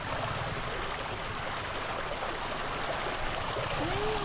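Floodwater from Typhoon Ondoy rushes in a steady broadband roar, continuous and fairly near.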